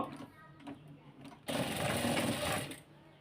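A sewing machine stitches rope piping. Quiet speech comes first, then the motor runs in a loud, steady whirr for well over a second before easing off.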